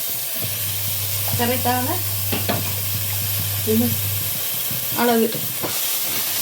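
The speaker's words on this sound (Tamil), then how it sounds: "இந்த தக்காளி கொஞ்சம் நேரம் பொரிய விட்டுடலாம்" Ground tomato paste frying for avarai kulambu, giving a steady close sizzle and hiss beneath a low hum, while a person speaks briefly over it a couple of times.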